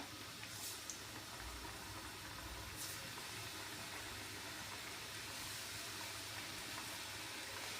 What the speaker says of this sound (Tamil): இப்போ நாங்கள் புளிஞ்செடுத்து வச்சிருக்கிற இந்த முறுக்களை போட்டு பொறிச்செடுப்போம்